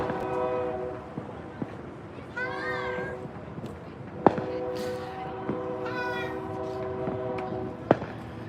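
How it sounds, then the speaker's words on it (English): A distant train about a mile away sounds its horn in long, sustained multi-tone blasts that run through most of the stretch, joined by brief chirpy calls and a few sharp knocks close by. "Yeah, the train is actually, believe it or not, about a mile that way."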